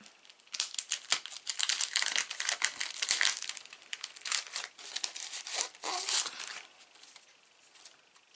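Plastic packaging on a craft stencil set is opened close up with loud bursts of crinkling, crumpling and tearing, broken by short pauses.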